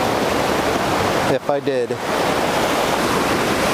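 Stevens Creek waterfall runs brown and swollen after heavy rain, a constant broadband roar that a brief spoken phrase interrupts before the rushing water resumes.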